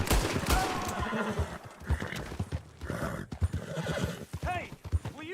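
A horse in the Red Dead Redemption 2 video game whinnies loudly with clip-clopping hooves, set against background commotion with bursts of gunfire and a voice in the mix.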